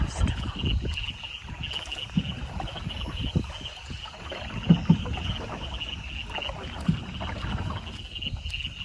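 A boat ride at night on Loktak Lake brings soft, continuous water lapping and wind noise against the hull, punctuated by a few faint knocks and splashes, with no clear voices.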